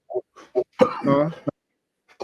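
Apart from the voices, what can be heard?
cough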